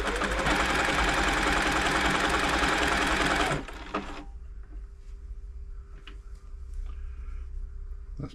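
An Elna Club Computer 500 sewing machine stitches in a loud, rapid mechanical rattle for about three and a half seconds, then stops, leaving faint clicks and handling noises.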